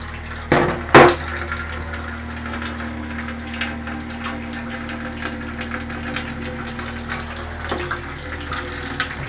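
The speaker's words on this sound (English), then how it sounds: "I'm going to get some water into the pour-off, into the tray." Water pours steadily into a darkroom tray inside a darkroom trailer, a continuous soft splashing wash under a low electrical hum, with two sharp knocks near the start.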